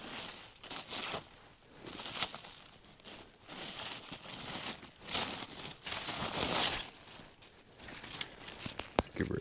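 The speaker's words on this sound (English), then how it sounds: "Take my wax paper." Wax paper crinkles and rustles in irregular bursts while being handled outdoors at a trap set along a trapline, with scattered crackles and rustling close by and no talking.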